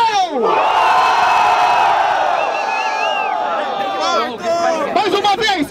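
A live audience at a Brazilian freestyle rap battle cheers and hollers loudly for a contestant, a sustained roar of many voices with scattered whoops near the end.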